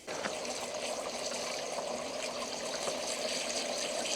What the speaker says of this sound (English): turn your hose on, and pop some water in.